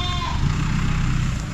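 Goats bleating on a farm in Arayat, a short wavering bleat at the start over a steady loud rumble of background noise.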